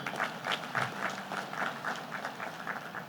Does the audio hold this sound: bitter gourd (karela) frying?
no